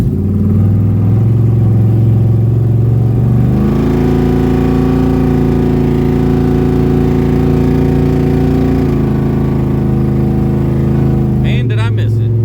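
A 1974 Ford Gran Torino Elite drives along at night, its engine a steady loud low rumble that shifts pitch slightly as it changes speed, the drone continuous throughout.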